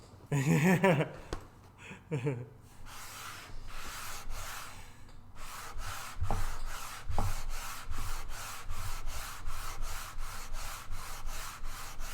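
Sanding a wooden guitar body by hand: steady rhythmic rubbing strokes repeat close up, with a few brief knocks and a short voiced sound near the start.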